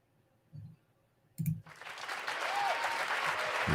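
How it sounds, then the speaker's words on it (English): A canned applause sound effect played during a synthwave music livestream. A couple of soft clicks come first, then a steady wash of crowd clapping rises and holds to the end. "we'll give Willie his applause"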